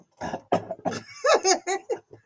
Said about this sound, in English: What you coughing for